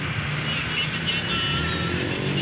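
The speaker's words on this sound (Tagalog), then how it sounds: "Yan, nagmumotor." Motorcycles passing on a city street in Kabankalan, a steady close engine drone that holds at an even level throughout.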